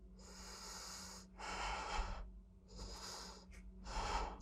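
Several strong, breathy exhales and inhales during a core-strength floor exercise come in slow, regular waves with short pauses between them, heard close and clear.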